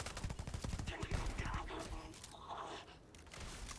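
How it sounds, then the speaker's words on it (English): The R0 18 Raptor burst-fire weapon in the Starfield game fires quick clusters of sharp shots in a rapid rhythm, loud and close, with a voice talking faintly under it. "Okay, I forgot that it was burst fire."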